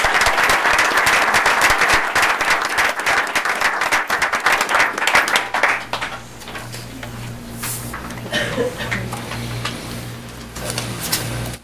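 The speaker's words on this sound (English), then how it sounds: "I would like to ask for a round of applause for our second annual Impact Award winner." Audience applause at an evening board meeting for an Impact Award winner, loud dense clapping for about six seconds that then thins out into a quiet room with scattered claps and faint shuffling.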